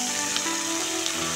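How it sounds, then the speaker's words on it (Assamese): Washed duck meat tipped into a wok (kadai) of browned onions for an Assamese-style spicy duck curry with potatoes, giving a steady close sizzle and frying hiss that holds through the clip with a couple of faint soft clinks, no talk. "এই মাংসখিনি মই কেৰাহীত ঢালি দিম"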